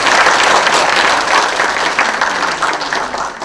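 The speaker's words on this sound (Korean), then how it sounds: "큰 박수로 맞아주시기 바랍니다." A dense audience at a museum concert event in Pocheon, Korea, applauds in welcome of arriving guests, a full, sustained wash of clapping that slowly softens.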